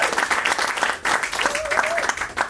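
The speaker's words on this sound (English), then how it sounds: "A round of applause to yourself for being here tonight." An audience at a sold-out comedy show breaks into applause, a dense burst of clapping that swells and dips, with a voice heard over it.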